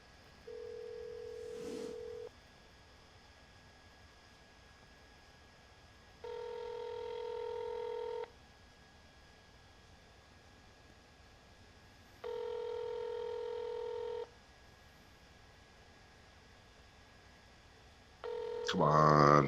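A telephone call to a cell phone: a brief dialing burst, then three repeated ringback tones, each about two seconds long and separated by pauses, with a louder sound cutting in at the end.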